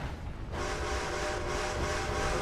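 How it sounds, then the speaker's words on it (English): Train rumbling along in Red Dead Redemption II, a steady loud rolling roar that swells in after a brief quieter moment and holds to the end. "I feel like the train's waiting for me"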